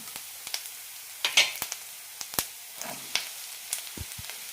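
Vegetables tipped into a pan of sautéed onion for an oats vegetable upma sizzle softly, with scattered stirring clatters and spoon taps against the pan, quiet and close, no voices.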